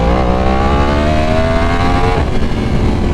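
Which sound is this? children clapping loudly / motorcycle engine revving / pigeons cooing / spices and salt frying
motorcycle engine revving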